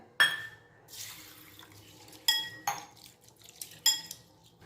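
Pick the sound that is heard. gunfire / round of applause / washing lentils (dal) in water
washing lentils (dal) in water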